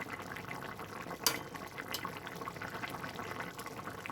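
A pot of tengra fish curry with potatoes simmers with a soft, steady bubbling hiss, broken by one sharp clink near the middle.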